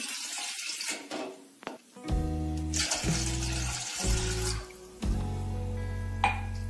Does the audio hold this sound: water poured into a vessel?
yes